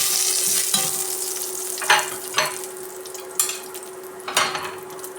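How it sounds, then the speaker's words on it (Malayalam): Spices sizzling in hot oil inside a pressure cooker, a constant crackling fry broken by several sharp metallic stirring scrapes, close and clear with no voices. "കുക്കറിൽ എണ്ണ വെച്ചിട്ടുണ്ട്, അതിന് കുറച്ച് സ്പൈസസ് ചേർക്കാം."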